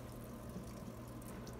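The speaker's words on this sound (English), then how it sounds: "I bring it over to my sink, and I just turn my water on" Water runs steadily from a sink tap, a faint, even hiss and rush of flow with no break.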